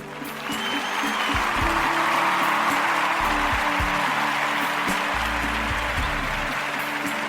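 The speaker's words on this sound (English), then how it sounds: "Thank you so much for that applause." An audience applauding steadily for several seconds, dense clapping at an even level from start to finish, with no voices on top.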